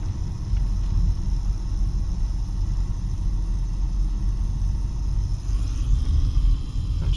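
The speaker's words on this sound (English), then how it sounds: "Not sure what this truck is doing here" A truck rumbles along a Las Vegas street, a low steady engine drone with road noise that persists at moderate distance for several seconds, with no talking.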